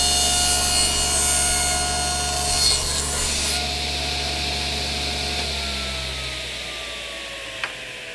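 A table saw fitted with a thin kerf blade cuts a wooden stave held in a jig, a loud steady whine that fades as the blade spins down, followed by a single faint knock.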